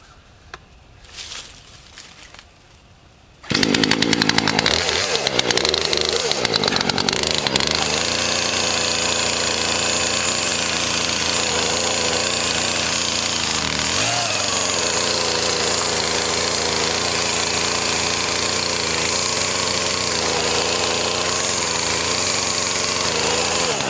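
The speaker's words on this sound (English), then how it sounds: "I'm going to notch the front of it first with the chainsaw though" After a few seconds of quieter rattling, a chainsaw roars to life and runs loud and steady at high revs, notching a fallen tree.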